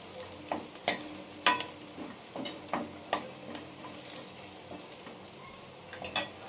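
Oil crackles and sizzles steadily in a pan as tempering spices fry for dhokla, with sharp pops and spits scattered throughout.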